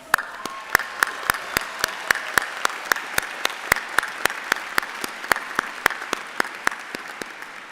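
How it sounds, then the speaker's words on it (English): At a law school commencement, the audience applauds the graduating class with steady clapping and sharp individual claps ringing out over the crowd, fairly loud and sustained without talk. "Round of applause"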